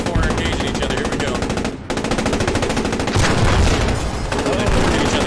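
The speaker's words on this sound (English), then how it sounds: "The D-Rag and the Panzer IV are engaging each other." WW2 tanks trading fire in Post Scriptum, a D-Rag and a Panzer IV, heard as loud continuous rapid machine-gun bursts with heavy booms mixed in, close and dense throughout.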